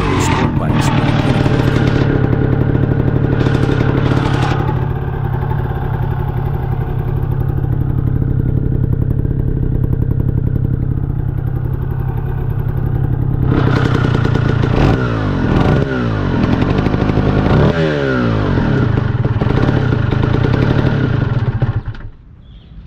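A Yamaha TZR125, a 125cc sport motorcycle from the 1990s, runs steadily and close by, its engine droning loud throughout with some clattering and a few revs, then cutting off at the end.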